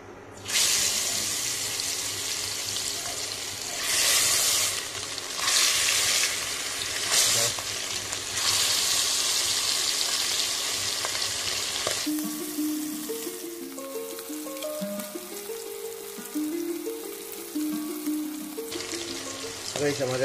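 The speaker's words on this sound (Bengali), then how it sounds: "এবার আমরা মাছ ভাজাগুলো দিয়ে দেবো।" Pieces of rupchanda (pomfret) fish hiss and crackle loudly in hot oil for a good stretch, then the sizzle drops away and other quieter sounds take over.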